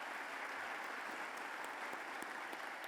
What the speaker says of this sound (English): Round of applause for the group.